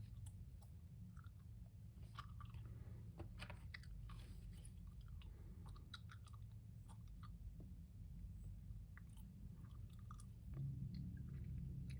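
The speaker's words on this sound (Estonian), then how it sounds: "Ma närin esimest korda videos nätsu." Gum is chewed right up at the microphone, with soft wet smacks and clicks repeating steadily over a low hum, up close and intimate, with no talking.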